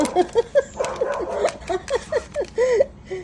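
A dog whimpers and yelps in short, repeated whiny cries, nearby and fairly loud, with small rustles in between.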